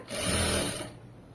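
Steady mechanical whir of a sewing machine stitching along a double-folded fabric edge, running loud and continuous for most of the moment before cutting off into quiet.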